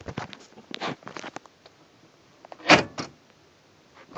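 Central door locks on a Mazda 121 car actuate with a cluster of quick mechanical clicks and whirring clunks, then a louder sharp thunk partway through, close by and without speech.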